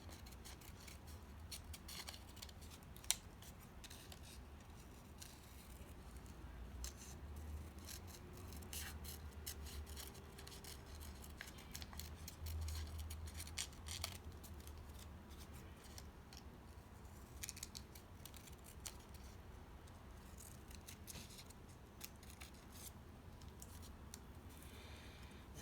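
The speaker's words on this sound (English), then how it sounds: "you want to take a scissors and you just want to very loosely cut out around the picture" Scissors snip loosely around a paper picture for a Father's Day craft, giving a long run of faint, soft, irregular cuts and rustles heard close up.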